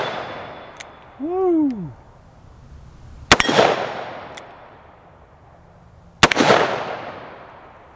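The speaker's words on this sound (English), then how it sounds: "We've got 3 rounds here. We'll start on the right." Two sharp, loud .357 Magnum shots from a Ruger GP100 revolver, a few seconds apart, each ringing out into a long decaying echo at an outdoor range, with a brief whistle-like whoop and an exclaimed voice between them.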